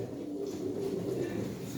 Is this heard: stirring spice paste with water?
no